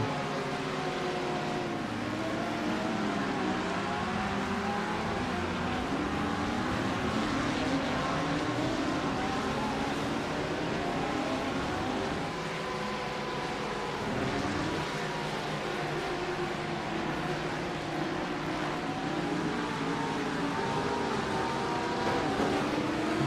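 Ferrari and Audi GT3 race cars battle for position in a racing video game, with several engines whining and shifting pitch in overlapping waves, a steady dense drone throughout.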